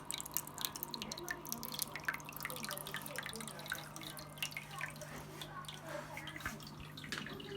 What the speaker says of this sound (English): the sound of water, constant water flowing, is also trickling down